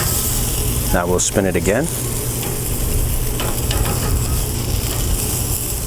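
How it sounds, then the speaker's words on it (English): Chicken shawarma searing on an SNS Kamado grill, giving a constant loud sizzle and hiss close by, with a person speaking briefly over it early on. "Now we're gonna get a little sear on all sides here"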